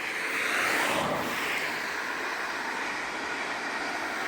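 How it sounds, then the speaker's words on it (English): A train rolling past near Station Road by the Skeoch roundabout in Stirling, Scotland, a steady broad rushing roar that swells slightly early on and holds evenly throughout, with no voices. "Train!"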